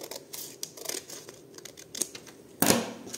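Scissors snipping through magazine paper while making handmade junk journal envelopes, a series of crisp close cuts ending in one louder final snip.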